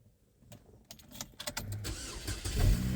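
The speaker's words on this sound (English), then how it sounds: "when we get the old Chevy fired up here, get her warmed up" An old Chevy car engine is cranked over, with clicks and starter chatter rising into a rough catch and a louder rumble near the end, recorded close and without talk.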